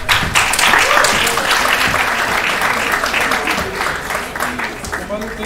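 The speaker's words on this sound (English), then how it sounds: "Keep the round of applause going." An audience at a college prize distribution keeps up sustained, loud applause for class representatives, a continuous clapping wash with voices mixed in throughout.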